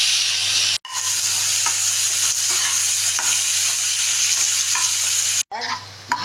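Sliced onion fries in hot oil after garlic is added, for a mashed hilsa-tail bharta. A loud, steady sizzle runs throughout, with stirring scrapes and two brief breaks.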